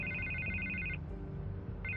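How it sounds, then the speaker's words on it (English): In a Batman video game, an electronic telephone ringtone trills loudly. One long ring stops, a low hum fills the pause, and a second ring begins at the end. "I can't get the phone to stop ringing"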